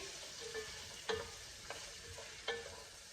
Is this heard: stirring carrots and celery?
yes